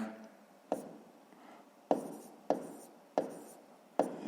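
Hand writing of numbers during a grade 6 maths exercise, heard as several sharp pen or chalk strokes spaced about half a second to a second apart, close and fairly quiet against a hushed room.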